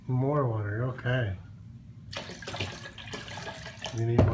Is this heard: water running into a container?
yes